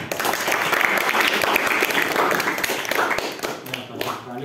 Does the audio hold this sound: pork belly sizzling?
no